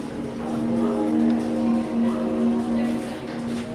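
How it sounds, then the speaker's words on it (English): Hagrid's motorbike ride vehicles at Universal Studios passing by, a sustained engine drone with a steady tonal hum rising and falling across the pass, heard from nearby amid background park ambience. "One of my favorite noises here at Universal, Hagrid's motorbikes going by."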